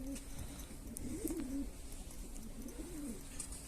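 Pigeons in a loft kept for breeding black play-type birds, two soft, low cooing phrases heard faintly over a constant background hum, with no talk.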